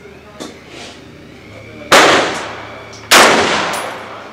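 Two loud, sharp AR-15 rifle shots at an outdoor range, about a second apart, each cracking close by and ringing off in a long echo, with faint quieter pops before them.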